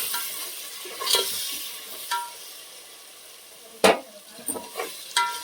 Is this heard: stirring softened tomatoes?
yes